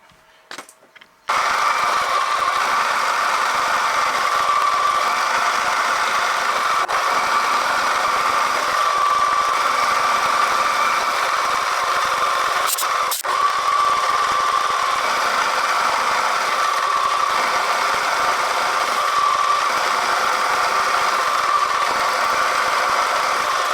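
A milling machine runs steadily and close while cutting eccentric strap parts for a Stuart 10V steam engine, a constant mechanical hum with faint cutting texture after a brief quiet start.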